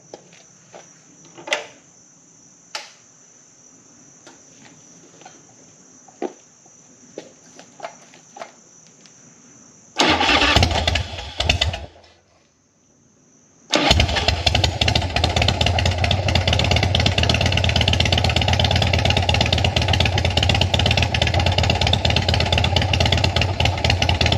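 A Harley-Davidson FXR motorcycle with a newly installed battery: quiet clicks and insect chirps, then a loud burst of cranking that drops out, followed by the engine catching and running at a steady, loud, close idle.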